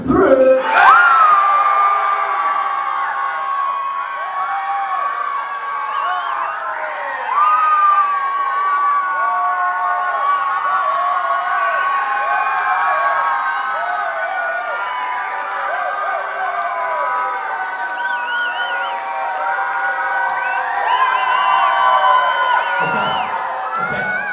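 A live concert crowd cheers, whoops and shouts loudly and continuously for about twenty seconds, competing to be the loudest to win a CD, with children's and adults' voices mixed in a dense roar.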